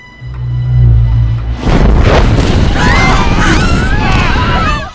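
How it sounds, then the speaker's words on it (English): A loud movie explosion, a heavy booming blast that swells, briefly dips, then surges again into a sustained roar with whooshing, sweeping tones layered on top. "after the explosion ended, the light ball also vanished"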